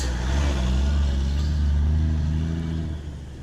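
A loud truck's engine drones loudly nearby in Texas with a low rumbling growl, steady for a few seconds before easing off slightly.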